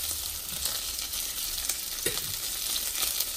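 A vegan sausage with its casing broken sizzles and fries steadily in a pan, a continuous crackling hiss with a few soft pops and faint stirring sounds, no talking.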